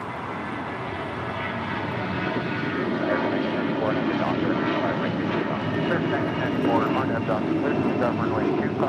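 An Air Canada Airbus A321 jet, flight 790 bound for Toronto, takes off with a steady, powerful engine roar that builds slightly while a person talks over it.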